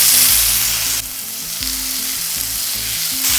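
Chopped tomatoes hitting hot oil with whole spices like cardamom in a pan, a steady bright sizzle with stirring scrapes and no voices.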